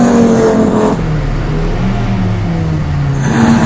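A BMW race car at the Mettet circuit roars close by as it overtakes, its engine note sweeping down and then climbing again over a constant loud drone of other traffic on the track.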